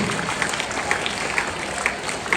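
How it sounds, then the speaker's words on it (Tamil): Applause from an audience at a 2024 Christmas celebration: dense, steady clapping that fills the short stretch at an even level, with a few sharper claps standing out. "அவர்களுக்கு கைத்தட்டி நம்முடைய வாழ்த்துக்களையும் பாராட்டுகளையும் இன்றைக்கு நாம் தெரிவிப்போம்."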